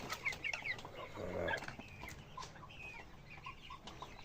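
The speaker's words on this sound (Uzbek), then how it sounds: "mana jo'jalar yeyishni boshladi" Young chicks eating mixed feed give scattered high cheeps and peeps at a moderate distance, with soft pecking and rustling underneath and a brief flutter of wings.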